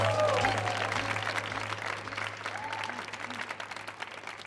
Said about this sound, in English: Can we get one more round of applause for the poet,